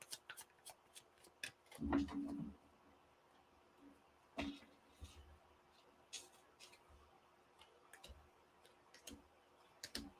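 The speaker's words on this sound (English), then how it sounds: "So I'm going to pull 12 cards first." Tarot cards are pulled and shuffled on a table, giving soft scattered flicks and taps with one louder riffling burst early on and a few sharper clicks, close but quiet.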